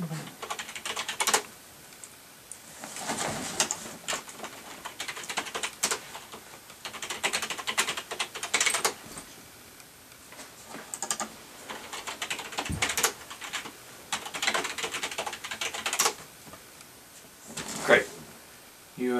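A password being typed on a computer keyboard, irregular bursts of clicking keys near and moderately loud, with people talking at times between the bursts.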